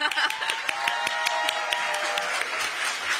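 An audience at a political party launch ceremony claps in evenly spaced, distinct beats over a faint sustained tone. The applause stays moderate throughout.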